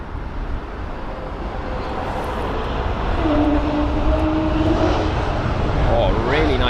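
Airbus A320neo airliner landing at London Heathrow in windy conditions, a steady engine roar building and holding loud and near with a rising whine toward the end, with voices talking over it.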